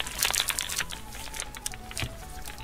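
Yo-kai Medal Busters card pack wrappers crinkle and tear in close, quick bursts of plastic rustling, with short pauses and a few sharper crackles.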